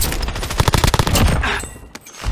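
A sentry turret in Call of Duty: Warzone firing a loud, rapid burst of automatic gunshots close by, the rhythmic volley ending in scattered echoing shots.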